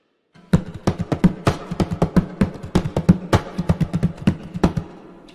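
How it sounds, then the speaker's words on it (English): Hands drumming on the back of an upturned acoustic guitar, a steady run of loud, close woody thumps and slaps in a quick, slightly uneven rhythm with no voices. "I take an acoustic guitar and I flip it over and start drumming on the back of it"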